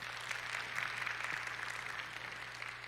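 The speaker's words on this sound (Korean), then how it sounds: "황성구 CTO님께 큰 박수 부탁드리겠습니다" Audience applause at a large tech conference in Seoul, a steady wash of clapping from a big crowd held at an even level over a low hum, with no talk on top.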